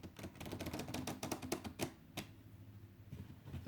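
Tarot cards are shuffled quickly by hand in a quiet room, a run of dense, crisp riffling clicks followed by a few sparser taps and a single sharp snap, close and fairly soft.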